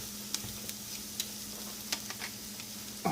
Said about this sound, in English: I have some carrots, onions, garlic, celery that's in here. I'm just going to, again, just saute these just a little bit.